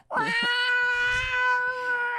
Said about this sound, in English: You ever heard cats out in the alley?